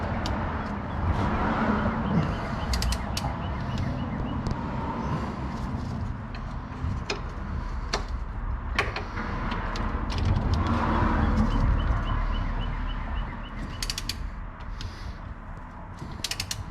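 Ratchet tightening strut-to-knuckle bolts while restoring a mail-delivery vehicle's struts, giving repeated clicking pawl bursts with metallic creaks over steady workshop background, fairly close.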